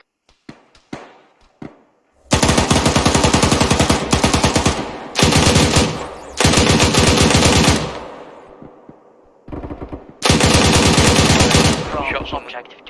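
Heavy automatic gunfire from a military shooter game, loud sustained bursts broken by short pauses, with a few sharp single shots at the start; voices talk briefly before the firing.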